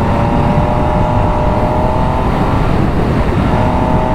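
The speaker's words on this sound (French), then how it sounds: "Oh, quelle moto." An MV Agusta 800 Brutale RR motorcycle engine holds a loud, close, continuous drone with no pauses or speech.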